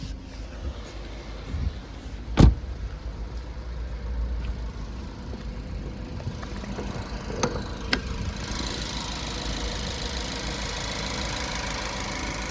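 A 2016 Ford Focus engine idling steadily under the hood, a smooth even hum with a couple of sharp clicks and a brighter whir joining near the end, with no talk.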